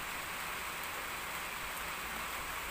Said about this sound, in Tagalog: Lakas ng ulan guys, may bagyo yata guys ha.